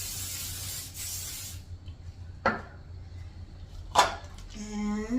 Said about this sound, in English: I am going to do this, a light spray of Pam as well